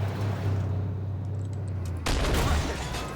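Tank cannon fire in the online game Armored Warfare, with the MBT-70 main battle tank in play: a single sudden, loud blast cuts through a steady low engine drone, then a broad noisy rumble trails off.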